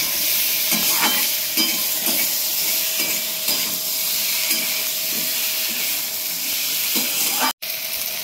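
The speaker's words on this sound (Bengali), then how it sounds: "আলুটা বেশ কিছুক্ষণ ভাজা আমার হয়ে গেছে" Continuous hissing sizzle of potatoes frying in a pan, with repeated soft scraping strokes of stirring and a brief dropout near the end.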